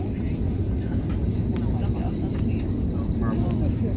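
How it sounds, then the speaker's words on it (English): An Indonesian airliner comes in at an airport and is heard from inside a parked plane as a steady, loud jet roar, with faint voices in the cabin. "This is the Indonesia plane coming in, and it's not the plane going back."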